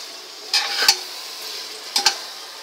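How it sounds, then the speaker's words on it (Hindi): Mutton pulao rice being stirred and roasted in a pan, a soft steady hiss with two brief clusters of scraping, clinking stirs close by, no voices. "हम चावल को अच्छी तरह से मिक्स कर लेंगे और उसे कम से कम एक मिनट तक भून लेंगे"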